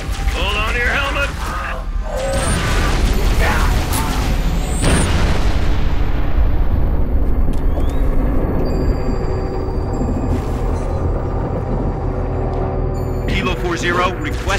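Final protective fire artillery barrage in Halo Reach: heavy booming impacts and rumbling blasts rolling continuously and loud, with mechanical whines and radio-style voices talking over it.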